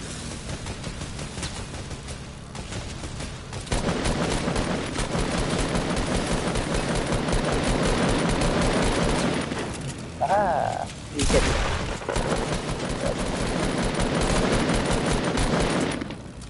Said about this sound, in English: people are trying to shoot us